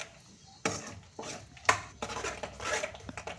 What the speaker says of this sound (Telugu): కొంచెం ఉప్పు, 1/2 టీ స్పూన్ ఉప్పు, స్పూన్ కారం వేసి ఇలా మొత్తం కలిసేటట్లు కలుపుకోవాలి